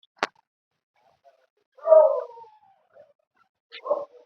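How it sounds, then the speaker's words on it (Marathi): A dog gives a short whining howl and a brief yelp after a sharp click, with silence in between. "गप रे कुत्रे कुत्र्याला नको ना धरू"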